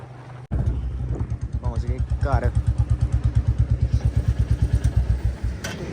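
A Royal Enfield Bullet motorcycle engine thumps at a steady idle, its rhythmic low pulses running throughout while people talk over it.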